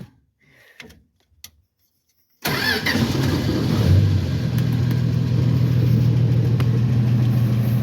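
A car engine inside a workshop cranks and catches after a few quiet seconds of faint handling noise, then settles into a loud, steady idle that runs continuously to the end.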